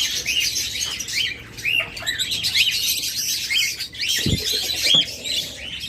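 Budgerigars chirp and warble continuously in a busy, close chorus of bright, rapid tweets, with a brief flutter of wings partway through.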